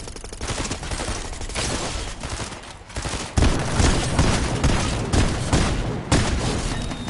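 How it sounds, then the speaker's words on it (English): Loud, dense crackling bursts from Fortnite game fireworks, rapid popping volleys running almost continuously with sharper blasts partway through and near the end. "I don't know why I keep hearing fireworks."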